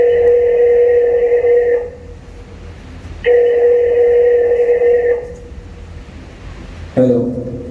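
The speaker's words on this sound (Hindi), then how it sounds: "अभी फोन करता हूँ अपने बेटे को" Two long steady tones of a telephone ringback sound close by, each about two seconds and separated by silence, followed by a short click as the line connects.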